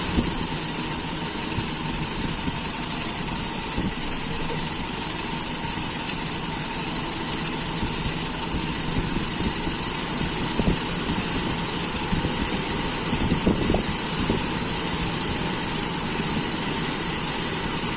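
Carbureted 5K engine of a Toyota Kijang Grand idles during carburetor tuning, a steady low running drone with slight uneven pulses and a few louder surges later on, heard close with no voices.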